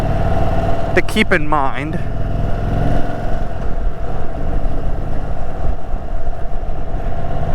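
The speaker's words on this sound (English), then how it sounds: "I don't know how I feel about that tinny sound on this motor" An Indian Super Chief motorcycle engine idles with a steady, somewhat tinny drone, loud and close, while someone talks over it.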